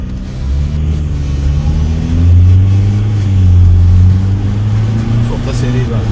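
A 2020 Ford Transit van with a 10-speed automatic gearbox drives along, its engine droning and rising smoothly as it accelerates and shifts, heard from inside the cabin with someone talking over it.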